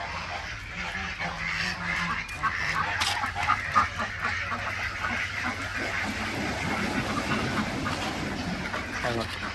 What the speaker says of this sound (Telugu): కోళ్ళు, అలాగే బాతులు ఇంకా ఉంటాయి కదా